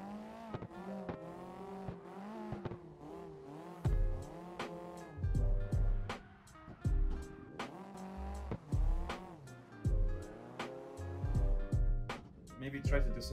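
A car drifts in the CarX driving game, played with a wheel on a scene-drifting map, its engine revving and whining in sweeping pitch swells with rough bursts of tire noise while a voice talks over it.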